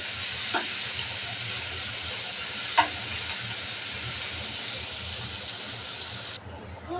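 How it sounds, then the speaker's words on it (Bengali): Chopped onion, chillies and prawns frying in a pan, a continuous near hiss and sizzle with a couple of faint clicks and a voice briefly in the background. "পেঁয়াজটা ভালোভাবে ভেজে নেব।"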